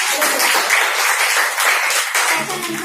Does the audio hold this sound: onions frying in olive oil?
no